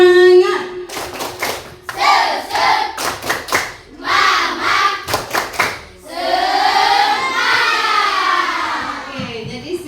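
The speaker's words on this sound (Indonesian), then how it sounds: "Tepuk semangat." A classroom of children performs a rhythmic spirit clap in an Indonesian school lesson, bursts of unison claps in patterned groups alternating with chanted children's voices, ending in a longer sustained group chant.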